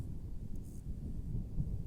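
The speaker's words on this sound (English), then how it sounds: "Oh, that storm is coming." Low, continuous rumble of distant thunder from an approaching storm, steady and muffled with no clear crack, filling the short stretch alone.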